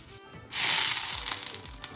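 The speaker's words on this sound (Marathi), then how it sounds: "थोडंसं तेल घालून पसरून घ्यायचं" Oil is spread across a hot griddle before cooking oats dosa, giving a steady, close scraping and sizzling rasp that starts abruptly and runs continuously, with light uneven crackles.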